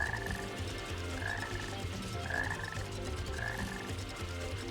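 A frog croaking in the Sonic Heroes video game, with short croaks repeating about once a second over continuous game music.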